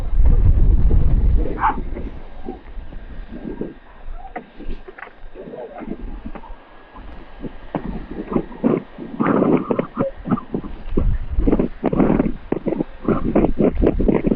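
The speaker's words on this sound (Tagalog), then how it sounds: "Lakas ng hangin." Strong wind buffets the microphone in low rumbling gusts, loudest at the start, while people talk and move around nearby.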